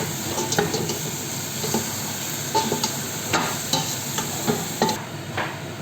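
Tomato paste stirred in a hot, sizzling casserole pan, with a steady frying hiss under repeated scraping and clacking strokes of the utensil against the pan, close and moderately loud.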